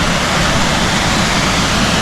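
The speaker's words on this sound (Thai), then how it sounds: "นี่น้ำตกน้อยๆอ่ะ" A small forest waterfall in Akatarawa Forest, New Zealand, pours in a steady, broadband rush of splashing water, continuous and fairly close, with no voices.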